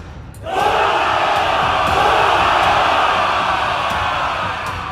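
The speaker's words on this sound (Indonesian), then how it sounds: "Sorakan semangat seluruh pasukan menggema" A whole army of troops cheering with spirit, a broad sustained roar of many voices that swells in quickly and holds steady and loud, fading slightly toward the end.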